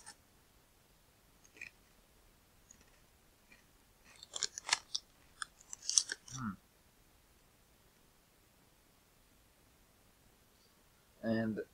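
Crunchy Lorenz jalapeno and cream cheese potato crisps are bitten and chewed up close in a few quiet, scattered crunches between long silences, ending with one louder bite.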